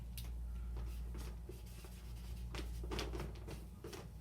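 A red pen scratches across a writing surface in short, uneven strokes, faint and close, over a low steady hum with no talk.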